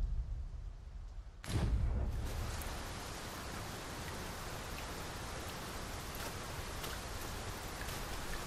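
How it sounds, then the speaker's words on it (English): Heavy rain pours down in the video game Dragon's Dogma 2. A quieter stretch gives way within a couple of seconds to a loud, dense, constant hiss of rainfall that continues without a break, with no voices. "It is raining most heavily"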